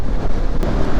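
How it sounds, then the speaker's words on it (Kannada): Strong sea wind roars into the microphone on a monsoon motorbike ride along the coast, a dense, close, continuous rush with low buffeting. "ಎಂತ ಗಾಳಿ ಅಷ್ಟೇ ಸಮುದ್ರದ ಗಾಳಿ"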